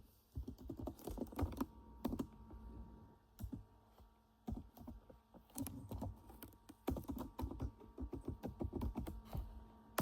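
Rapid clicking of computer keyboard keys while an email address is entered into accounting software, steady bursts of close, fairly quiet taps with brief pauses between words.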